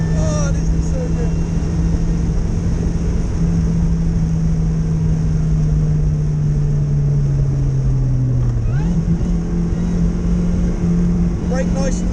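A supercharged Vauxhall VX220 pulls hard under full throttle on the Nürburgring, its engine droning steadily and loud throughout, with a brief dip and sharp jump in pitch near the end as it shifts, voices talking over the noise.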